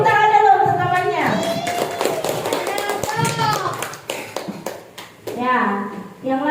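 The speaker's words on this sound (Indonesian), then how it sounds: "Tepuk tangan dulu untuk temannya." Schoolchildren in a Grade 5 classroom clap for a classmate about to perform a fan dance, a burst of scattered claps mixed with an adult's voice and children's chatter.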